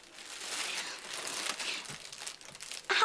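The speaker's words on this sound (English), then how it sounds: "Here, take one of these empty plastic bags." An empty plastic bag crinkles and rustles continuously, moderately close, with a sharper burst of handling near the end; no one speaks.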